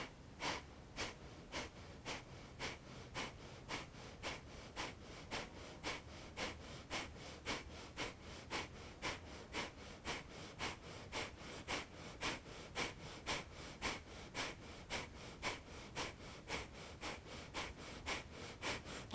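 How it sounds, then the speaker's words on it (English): Kapalabhati yoga breathing: a long run of rapid, forceful exhalations snorted through both nostrils at a steady pumping rhythm, roughly one sharp puff every half second, close and even, with no talking. "Now for Kapalabhati, breathing in both nostrils."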